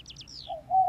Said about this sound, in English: Stupid owl?